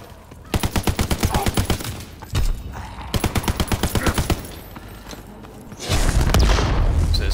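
An Austen submachine gun fires in a WWII shooter game, two fast rhythmic bursts of evenly spaced shots at close range, with a thud between them and a heavy rumbling boom at the end.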